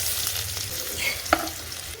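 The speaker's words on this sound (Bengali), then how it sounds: "কড়াতে দিয়ে দেবো তেল, কড়াতে দিয়ে দেবো শুকনো লঙ্কা আর তেজপাতা, পাঁচফোড়ন দিয়ে দেবো, পেঁয়াজ দিয়ে দেবো" Dry red chillies, bay leaf, panch phoron and onion fry in oil in a wok, giving a loud, continuous hiss with a single sharp clink of a utensil partway through.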